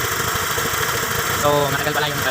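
A Honda Click 125 scooter engine idles steadily and loudly up close during a coolant flush, a continuous mid-pitched hum and vibration, while someone talks over it.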